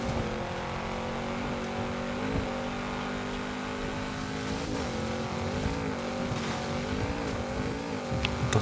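A car engine drones steadily while driving in Forza Horizon 5, its pitch rising and falling with shifts and throttle changes, held at a moderate, continuous level with faint tire and road noise throughout.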